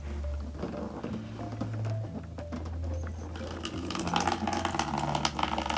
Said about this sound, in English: water starts flowing out of the water bottle and into the container